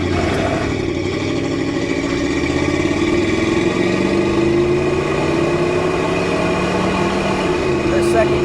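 A 1979 Oldsmobile W30 with its original 350 V8 and automatic transmission pulls hard, engine note rising steadily with a loud, continuous drone that sweeps upward through the gears.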